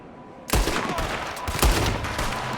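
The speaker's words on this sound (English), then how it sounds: "There's another one shooting from the window." In the video game Red Dead Redemption 2, gunfire from a window cracks out as two sharp, loud shots about a second apart, each followed by a lingering, echoing rumble.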